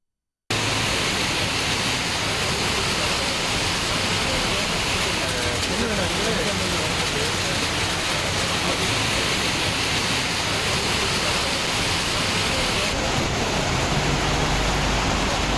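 Heavy rain pours steadily in Tamil Nadu, a dense, unbroken hiss of falling water that stays loud and even throughout with no voices over it.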